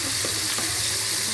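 Onions frying in a pan for pav bhaji, a steady hiss of hot oil sizzling with a few soft stirring scrapes, close and continuous with no voices.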